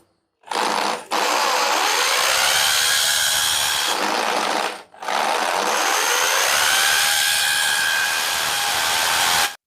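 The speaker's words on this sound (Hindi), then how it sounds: "यहाँ पे मुझे फिर ड्रिल मारना पड़ेगा" A loud, steady electric drill whine drilling into a wall runs nearly continuously, broken by two brief pauses, with a rising pitch as the motor spins up again.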